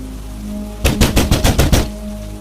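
Steady rain hisses throughout, broken by a quick run of about seven loud, evenly spaced knocks on a house door in the middle.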